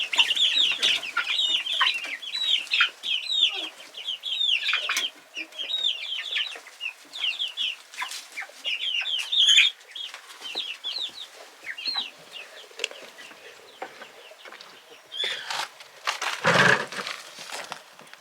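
A flock of young chicks venturing into their outdoor run for the first time, cheeping and clucking steadily over a long stretch, with a few short louder knocks and bumps near the end.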